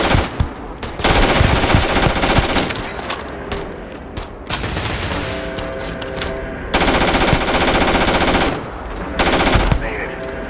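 Loud, sustained automatic gunfire in the space video game Starfield, coming in dense rattling bursts with brief gaps between them and no spoken voices.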